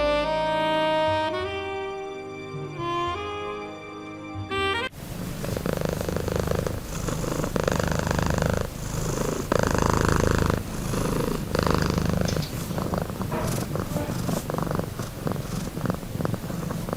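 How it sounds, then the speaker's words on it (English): A domestic cat on a floor purrs in a steady low rumble, following a few seconds of piano music, with the purring continuing close and moderately loud to the end. "Look at the cat on the floor looking curiously at the camera."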